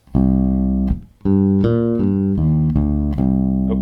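Electric bass guitar plays the second part of a riff in a natural minor scale, a string of distinct plucked notes, loud and close, with a brief gap near the start.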